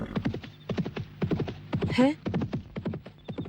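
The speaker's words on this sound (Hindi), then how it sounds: "ये चांदनी चौक में घोड़ा कहाँ से आ गया?" A horse in Chandni Chowk clip-clops with quick, rhythmic hoofbeats close by and gives a short whinny midway. People speak briefly over it.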